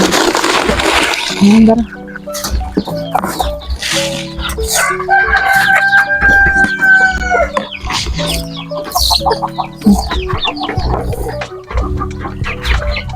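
Chickens cluck and call repeatedly at close range, with a rooster's drawn-out crow rising in the middle over a busy farmyard background.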